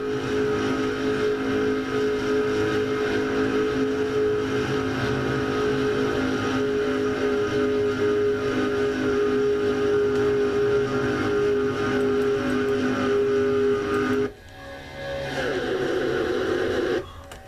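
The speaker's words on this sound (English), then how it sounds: "On board Joshua Collard's car." Steady, loud engine drone with sustained tonal hum from stock cars in a video game Daytona 500 race, continuing throughout before a brief shift near the end.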